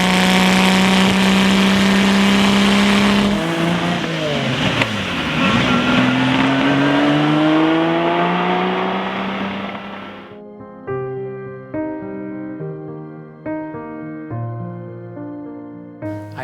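A Lamborghini Miura engine revs high and screams loudly with rising whine, then cuts off, leaving a ringing, descending harmonic tone that fades out.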